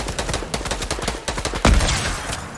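Rapid gunfire in the battle royale game Fortnite rattles off in a fast, steady volley of close shots, ending in one heavier boom, with no talk over it.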